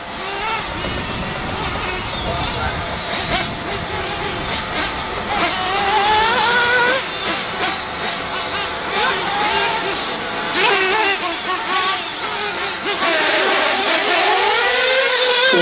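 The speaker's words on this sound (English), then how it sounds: "Here we go, lap around Liverpool with KC" An RC car runs a lap of a new track in Liverpool. Its high, whining motor rises and falls in pitch as it speeds up and slows down through the corners. The sound is loud and continuous throughout.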